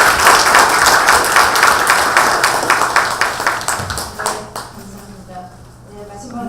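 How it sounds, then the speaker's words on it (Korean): Applause at a Korean political party leadership meeting, steady clapping from a room of attendees for about four seconds before tapering into quieter murmuring and scattered sounds. "박수 한번 보내주세요."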